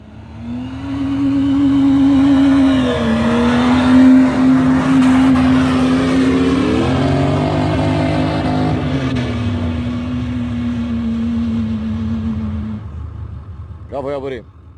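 A car engine held at high revs for over ten seconds, loud and close, with the pitch climbing and falling between revs and a brief clatter at the very end. A busy crowd or voices sound faintly underneath.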